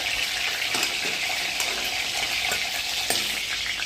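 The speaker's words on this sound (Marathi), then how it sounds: "कारले स्लो गॅसवरती तेला तेलामध्ये फ्राय करून घेतलेलं आहे" Stuffed bitter gourds fry in oil over a low gas flame. A dense, continuous close sizzle carries faint stirring scrapes.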